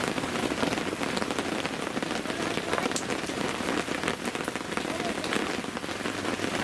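Steady rain patters densely and evenly on surfaces around a carp angler's bank-side pitch, close and continuous without a break.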